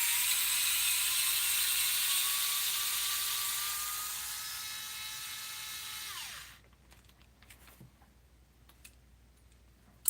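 A ratcheting power tool spins a bolt off a Jeep JP leaf spring mount, a sustained whirring drone that slowly rises in pitch for about six seconds before cutting off, followed by faint clicks and a sharp tap at the end.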